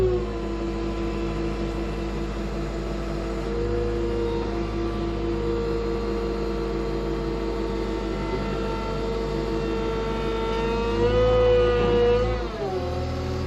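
A 1945 Caterpillar D4 tractor engine labors steadily in third gear with the clutch engaged, a low droning hum that rises and strains near the end before dropping off, with no voices.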